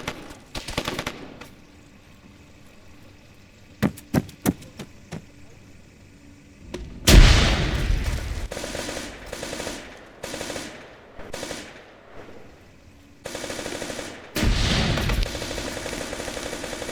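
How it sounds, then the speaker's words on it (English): Automatic and single-shot gunfire aimed at a small yellow building near a warehouse during a training exercise, sounding as scattered sharp bursts and rapid strings of shots, some close and loud, others distant, with short pauses between volleys. "They're shooting up the little yellow building."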